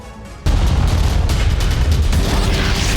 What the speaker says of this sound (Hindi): एक ही रात में 3 बड़े टारगेट पर धमाके